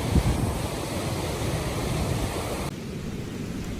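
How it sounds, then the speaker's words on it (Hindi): The fast-flowing Bhagirathi river rushing down from Gaumukh toward Gangotri in the Himalayas: a dense, steady roar of churning water that fills the whole clip, loud and constant, with a slight drop in level near the end. "ये पानी की धारा इतनी तेज जो कि ऊपर गौमुख से गंगोत्री के लिए भागीरथी नदी बह रही है।"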